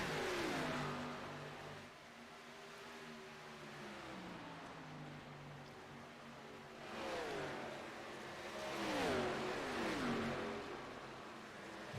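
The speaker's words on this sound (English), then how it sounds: "Chandler, Lender Johnson, and Mike Leftwich all racing in that nice little pack right there" Several race cars run in a close pack around a track, their engines rising and falling in repeated revving sweeps as they pass at moderate distance. No one talks.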